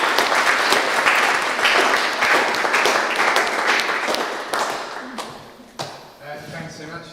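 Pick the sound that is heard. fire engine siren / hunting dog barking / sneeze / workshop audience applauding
workshop audience applauding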